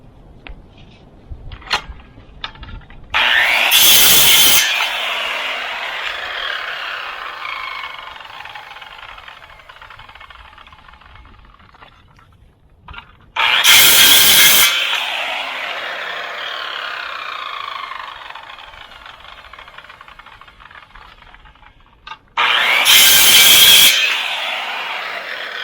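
A saw cuts short lengths of steel rebar rod in three separate loud bursts of harsh, grinding metal, each lasting about a second, with quieter handling noise and pauses between cuts.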